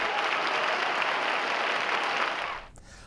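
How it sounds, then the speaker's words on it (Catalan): Graduating students turn and applaud their families in a loud, dense burst of clapping from a large crowd, sustained evenly before fading out abruptly near the end. "Els estudiants s'han girat per agrair i reconèixer l'esforç de les seves famílies amb un fort aplaudiment"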